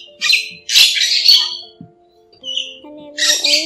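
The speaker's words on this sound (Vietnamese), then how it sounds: "những bản nhạc có tiếng chim kèn sắt và các loại thú rừng nhỏ vân vân đều là những bản nhạc được trải nghiệm thực tế" Recorded calls of starlings played as a lure for trapping migratory white-headed starlings, harsh squawking bursts repeated several times with brief pauses, loud and close, with a faint steady tone underneath.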